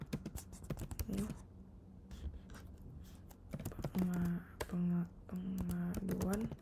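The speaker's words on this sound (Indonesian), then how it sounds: "Kita buka terminal. Kita ketik Laravel." Fingers type on a computer keyboard while entering terminal commands, a rapid run of close, crisp key clicks that pauses, then resumes alongside a voice speaking.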